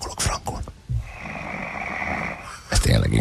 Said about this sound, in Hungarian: figyeld, és horkolok frankon.